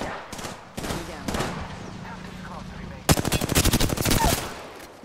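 Gunfire in Apex Legends: a few separate shots first, then a fast, loud automatic burst of closely spaced rounds near the end.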